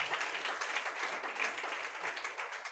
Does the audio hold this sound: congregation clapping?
yes